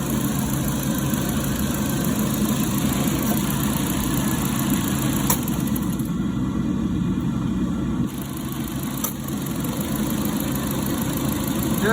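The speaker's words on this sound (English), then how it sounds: "the customer came in with just a belt squeal" A 2018 Nissan Versa engine idles steadily with a continuous thin high serpentine belt squeal riding over the motor hum, close up, with a brief dip in the middle and no talking.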